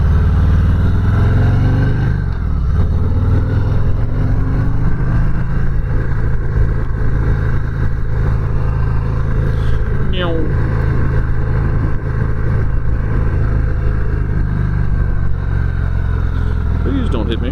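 A preowned 2023 Harley-Davidson Softail Heritage engine drones steadily while riding, with rushing wind and road noise throughout and a faint voice briefly underneath.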